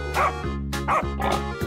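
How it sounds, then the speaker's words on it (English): Dog barking in short bursts over a steady musical backing, three or four loud woofs spaced about half a second apart. "dog,"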